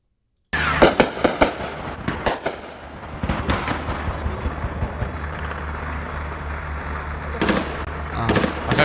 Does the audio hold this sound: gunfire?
yes